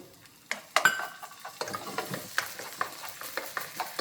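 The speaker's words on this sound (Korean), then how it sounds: "그래서 이제 고기를 익혀줘야지" Meat stir-fries in hot oil for buchu japchae, a close sizzle punctuated by frequent metal clanks and scrapes of a utensil against the pan in an uneven rhythm.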